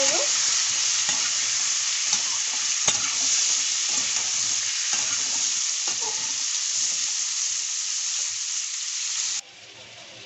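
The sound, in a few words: pointed gourd (potol) frying in oil with salt, turmeric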